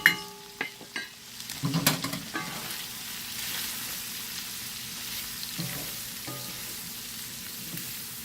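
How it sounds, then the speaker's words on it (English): Flour and ranch seasoning fry in a pan with a steady close sizzle, opening with a few sharp utensil knocks and stirring scrapes before settling into an even hiss. "I want that to cook a little bit before I put the milk in"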